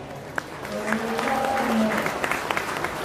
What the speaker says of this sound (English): I'd like to give these market exhibitors a big round of applause.